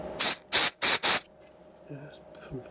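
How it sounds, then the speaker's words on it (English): Four sharp hissing bursts of freezer spray hit a chip on an Atari STE with a RAM fault, close and loud in an even rhythm, then quiet faint clicks afterward. "Some freezer spray on the combo again."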